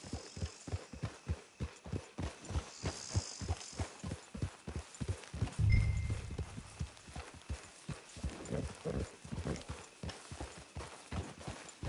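Horse hooves clip-clop in a steady, even rhythm throughout a PS4 video game, the footfalls close and clear, with faint ambient game sounds behind them and no talk.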